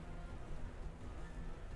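Steady rain weather effect in a Pokémon battle game, a continuous even hiss of rainfall, soft and unbroken across the short moment.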